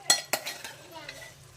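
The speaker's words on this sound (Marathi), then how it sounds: "त्याच्यानंतर आता मटर टाकून घेऊ" Peas tipped into paneer gravy in a pan, two sharp clattering hits close up, then a soft stirring scrape and faint simmer fading out.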